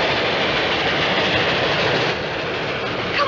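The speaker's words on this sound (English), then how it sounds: "it's a train" A train rolls past in a 1938 film scene on the prairie, a loud, continuous rumbling roar with rattling wheels and a faint rising squeal near the end.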